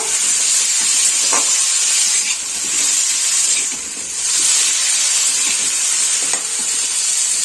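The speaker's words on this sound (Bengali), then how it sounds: "টমেটোটাকে অল্প একটু ভেজে নেব" Tomato fries in a pan for a winter cabbage dish, giving a loud, steady steamy hiss. The sizzle swells and eases slightly over its course, with faint clinks close by and no voices.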